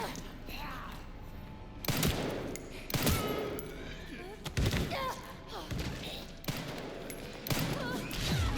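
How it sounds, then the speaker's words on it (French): Gunfire in the Resident Evil Requiem video game as the player repeatedly shoots and misses, sharp loud shots every second or so over a tense ambient game soundscape. "je rate mes balles"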